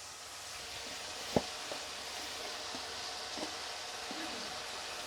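A little water added to a hot pan of aloo dum sets off a steady, close hissing sizzle, with one sharp knock and a few faint taps of a spoon over the continuous frying noise.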